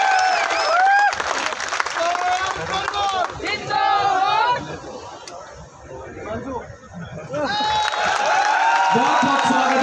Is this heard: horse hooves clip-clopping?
no